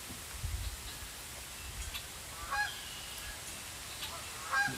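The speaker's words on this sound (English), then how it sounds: "you can hear the geese. Listen to the geese." Geese honk in a few short bursts at moderate distance over quiet outdoor background on a cool fall day in Michigan, with low rumbles near the start.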